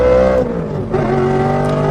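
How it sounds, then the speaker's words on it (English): A loud Ford Mustang V8 engine revs hard, close by, in a sustained roar with a brief dip in pitch partway through. "Listen to that volume. Mustangs."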